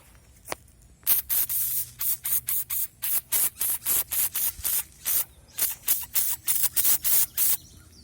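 A pepper spray canister fires one brief test puff, then a long run of sharp hissing bursts, roughly twenty in quick, fairly even succession, loud and close.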